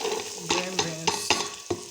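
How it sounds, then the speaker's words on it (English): Green beans, green onion, green pepper and carrots fry together in a pan, a continuous sizzle broken by five sharp, evenly spaced scrapes and knocks of a utensil stirring, close and fairly loud. "I'm adding everything together. This is also the carrots. I want to fry them together."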